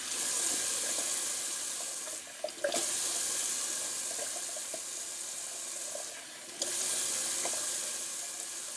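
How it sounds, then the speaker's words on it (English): Tap water pours steadily into a sink for a cold rinse, a continuous close hiss that briefly cuts off twice as the flow is interrupted. "I'm just going to do a cold water rinse real quick."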